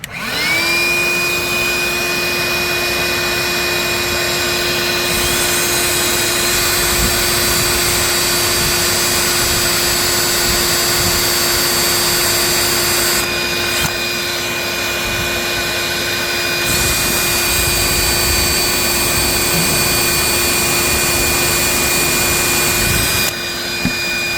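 A shop vacuum roars loudly and continuously with a high whine, while a drill with a step bit countersinking holes bursts in and out over it in several short runs.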